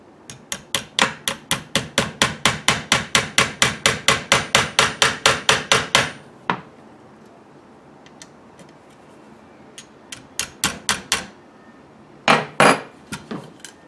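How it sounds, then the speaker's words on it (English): Rapid steady hammer taps, about two dozen in a row, tapping cross pins into a Type 81 rifle stock, then a pause and a few more scattered sharp knocks, close and loud. "now you're ready to tap the cross pins in"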